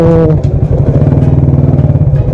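Honda Wave 100 motorcycle engine idling close by, a loud steady low chugging pulse with slight clatter throughout.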